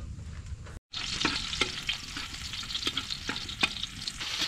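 Saluyot sautéed with smoked fish sizzles steadily in a hot pan, a close, continuous frying hiss broken by a brief gap and scattered sharp clicks of stirring.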